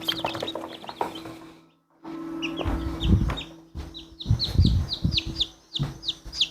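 Newly hatched chicks from an incubator peep in quick, repeated high chirps that grow busier toward the end, mixed with close thumps and handling noise.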